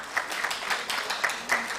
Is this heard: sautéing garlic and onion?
no